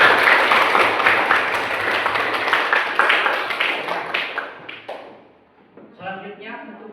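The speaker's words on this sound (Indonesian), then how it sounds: "Tepuk tangan" A classroom audience claps together for several seconds after a presentation on Friday prayer; the applause fades out and a voice begins speaking near the end.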